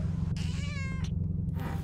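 A cat meows once, a clear rising-and-falling tonal call heard close up over a steady low background hum, with a brief shorter sound near the end.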